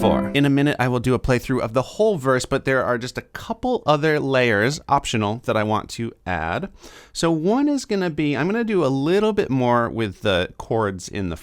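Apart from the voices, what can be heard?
No distinct noise like a dog, phone or traffic.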